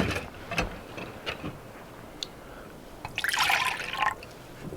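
Water is poured into an MRE coffee cup, heard as faint scattered drips followed by a short, brighter trickle of filling liquid close by in a quiet setting.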